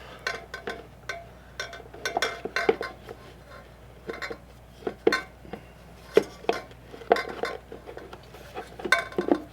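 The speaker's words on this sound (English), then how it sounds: "Now that the oil cooler is aside, I can actually put the filter back in by going up" An air filter being fitted back into a Ducati Scrambler: scattered, close plastic and metal clunks, knocks and clinks in irregular bursts as the part is worked into place, with no talking.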